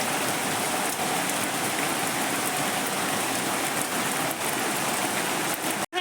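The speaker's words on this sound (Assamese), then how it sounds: "বৰষুণৰ টোপাল।" Rain falls steadily under dark clouds in Lakhimpur, a dense, even patter of drops on surfaces that stays close and loud throughout, with no voices, ending in a brief cutoff.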